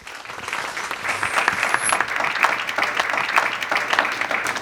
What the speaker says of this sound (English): Another round of applause for Kristina Muntean, ladies and gentlemen